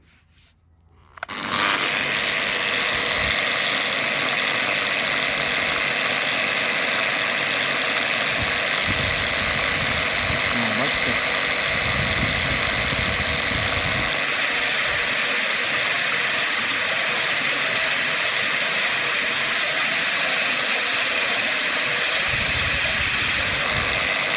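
An old, worn engine-driven wire brush wheel scrubs old circulated coins, a loud steady whirring grind with hissy scraping that starts abruptly after a short quiet lead-in and runs continuously, close by, with no talking.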